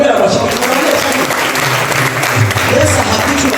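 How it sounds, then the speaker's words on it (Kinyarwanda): A church congregation breaks into sustained, loud applause, with voices mixed into the clapping throughout. "Ariko tuyikomere amashyi"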